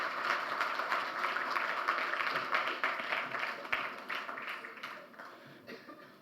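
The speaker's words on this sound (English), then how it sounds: "A big round of applause." An audience at a conference applauds a guest as they arrive on stage, with sustained dense clapping from a large hall that fades toward the end.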